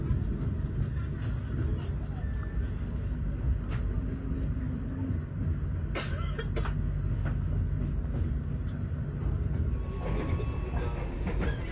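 The Tegal Bahari medium-distance train runs through a station without stopping, making a continuous rolling rumble with scattered clicks and rattles throughout.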